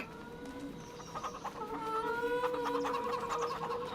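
Chickens cluck and call in a farm video game, Farm Sim 25, in a repeated, overlapping series of fairly quiet, close clucks without any talk.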